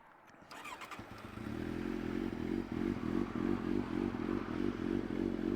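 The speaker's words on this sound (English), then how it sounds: "Speaking of the slip-on exhaust, let's just do a quick sound check." Kawasaki Z750S motorcycle with a 350mm slip-on exhaust and the baffles removed starts up after a clatter and settles into a loud, throbbing idle with a lumpy, pulsing rhythm, recorded close by.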